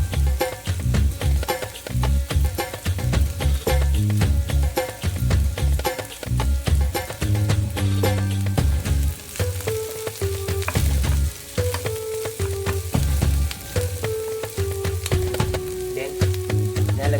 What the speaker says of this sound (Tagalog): Inuuna ko yung bawang.